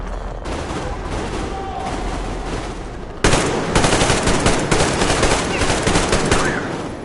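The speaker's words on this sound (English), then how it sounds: "Covering fire for the Colonel" Sustained machine gun covering fire in the Metro Exodus video game, a dense stream of rapid shots that jumps louder midway and keeps hammering steadily without a break.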